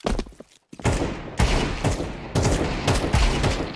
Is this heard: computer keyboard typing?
no